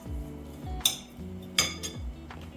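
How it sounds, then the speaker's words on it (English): A utensil clinks against a bowl while salt and black pepper are mixed in, a few sharp, close clinks spaced over a couple of seconds with soft scraping between, no talk. "Just mix it together."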